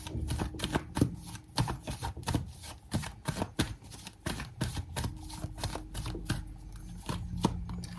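Tarot cards are shuffled in a steady run of crisp, rapid riffles and flicks, close and continuous for the full stretch with no talking.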